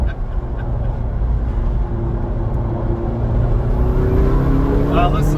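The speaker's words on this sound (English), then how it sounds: "Well, listen to that turbo." McLaren GT twin-turbo engine accelerating onto a freeway, a steady loud drone with a rising turbo whine building near the end, under a voice talking.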